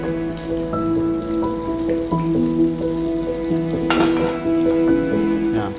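Egg fingers coated in bread crumbs fry on a low flame, a steady dense sizzle and crackle of hot oil that holds evenly throughout, close by, with faint clinks midway.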